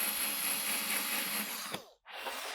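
A Hario Electro Solo electric coffee grinder fitted with an adapter whirs loudly and steadily, with a gritty grinding texture, then cuts out briefly and starts again.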